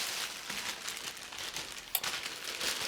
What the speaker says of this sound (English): So get it out of the plastic bag.